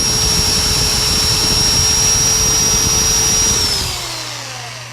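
Steady loud whir of a wood lathe with a high tonal whine as the parting cut goes through to the base of a wooden toothpick dispenser, the motor pitch sliding down near the end as it winds down.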